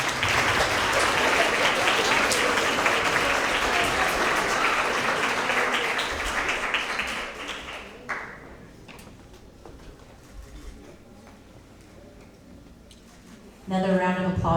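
A school award assembly audience for 6th to 8th graders claps loudly in a sustained burst for several seconds, then the applause thins out and fades, with a voice starting to speak at the end.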